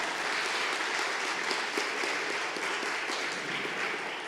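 Church congregation applauding steadily for several seconds, a dense continuous wash of clapping that fades slightly at the end.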